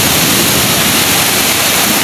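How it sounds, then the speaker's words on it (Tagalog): Strong waves on a swollen, high-running river make a loud, steady, unbroken rush of churning water, close by and with no voices. "Grabe din po yung alon dito sa kanila."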